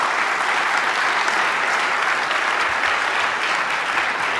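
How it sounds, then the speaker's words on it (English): A conference audience breaks into vigorous, sustained applause, a thick and even roar of many hands clapping at once with no pauses. "So give them a round of applause"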